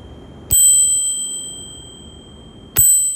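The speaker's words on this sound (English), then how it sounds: "get yourself a loud bell. This is your bike's horn." A loud bicycle bell rings twice, about two seconds apart, each ding bright and lingering over quiet street background.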